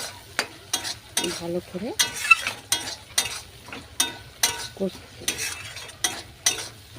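Chicken frying in oil with a little salt, a quiet steady sizzle punctuated by regular stirring scrapes and clinks, with a brief voice speaking now and then.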